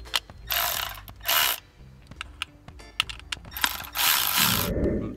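Parts of the window regulator inside a Chevrolet Tahoe door are loosened, with close ratcheting clicks, metallic clacks and rattles, broken by bursts of hissy rasping and a low rumble near the end.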